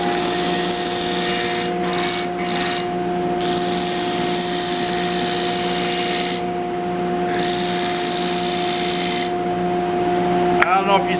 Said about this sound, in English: when we're sanding, you'll see that line disappear